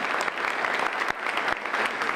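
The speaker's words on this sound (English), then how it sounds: "Can we get a round of applause for these people?" Brief, steady applause from members at a Rotary Club meeting, a fairly close wash of many hands clapping together with no voices heard over it.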